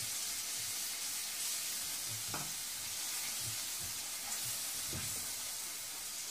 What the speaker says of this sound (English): And now I'm just adding even the rest of yogurt.